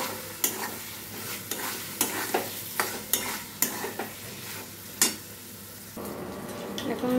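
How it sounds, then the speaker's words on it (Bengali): Fried potatoes sautéed with spices for paneer aloo curry, stirred in a pan with a spoon: a steady sizzle broken by repeated sharp scrapes and knocks against the pan, close and fairly loud, with no talking. "এবার আমি দিয়ে দেব ভেজে রাখা আলুগুলো। এটা দিয়েও আমি মিনিট খানিক কষিয়ে নেব।"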